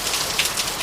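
Heavy typhoon rain in Naga City, Philippines, a dense steady hiss of drops pounding surfaces, loud and close with no break and no voices.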